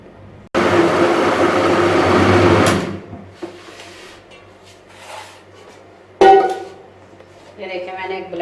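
A loud, steady mechanical whir of a blender puréeing peeled tomatoes with a little water runs for a couple of seconds, then stops, followed by quieter clatter and handling noises.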